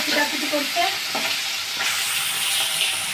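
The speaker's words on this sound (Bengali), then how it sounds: "তেলটা গরম হয়ে গেছে, এবার আমি একটা একটা করে মাছ করে দেবো।" Hilsa fish sliding into hot oil in a pan, a dense, steady crackling sizzle that runs loud and close for the whole stretch, with spattering pops from water in the fish.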